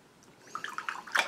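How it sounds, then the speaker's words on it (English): A paintbrush is rinsed in water with a quick run of small splashes and swishes, soft and close, getting busier toward the end. "I'm rinsing out my brush"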